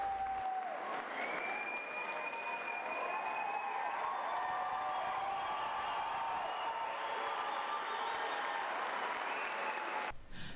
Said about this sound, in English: A standing ovation for these graduates standing up for their school.